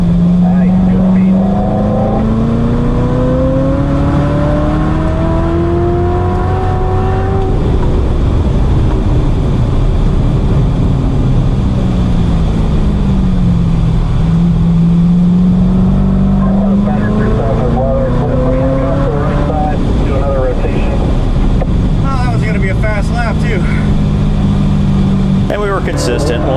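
A 2019 Corvette ZR1 lapping a race track at speed, its engine roaring loud and continuous with pitch rising through gears, dipping under braking and climbing again, heard from inside with a voice talking over it at times.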